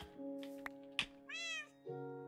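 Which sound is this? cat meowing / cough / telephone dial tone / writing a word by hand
cat meowing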